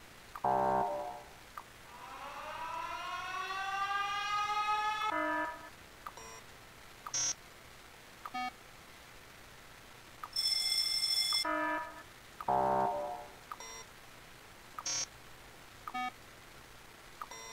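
Alarm signals in the factory-building game Factorio sound as a rising chime sweep, then a series of short electronic beeps and tonal bleeps at irregular intervals, clear and alone over near silence.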